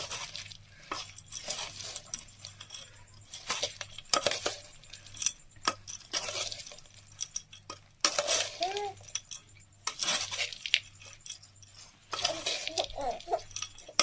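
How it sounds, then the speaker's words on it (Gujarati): Jhalmuri ingredients, puffed rice with chopped chili, being tossed and stirred in a bowl, giving repeated dry rattling, clinking scrapes in bursts with short pauses between, close and moderately loud. "અને હવે આપણે આને મિક્સ કરી લઈએ."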